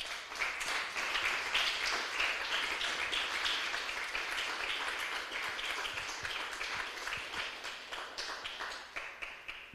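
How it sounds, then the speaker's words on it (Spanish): A church congregation claps continuously and loudly for several seconds, a dense, steady wash of applause with no voices standing out. "Denle un aplauso fuerte al Señor."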